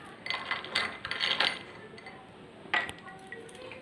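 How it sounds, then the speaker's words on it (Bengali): Ice cubes drop into a mango drink, giving a few bright clinks against the glass in small clusters, the loudest coming near the end. "তারপর তার উপর কিছু আইস কিউব"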